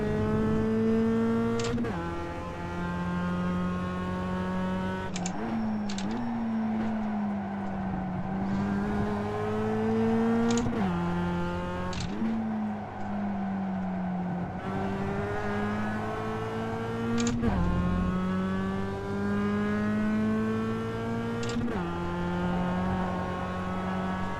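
A racing game car at full throttle around Okayama: a loud, continuous engine note climbing through the revs, then dropping sharply at each upshift, repeated several times with no break.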